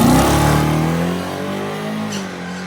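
A 440 cubic inch car launches hard with its wheels slipping, the engine roaring loud and close with strong harmonics that ease slightly as it pulls away, without nitrous or turbos.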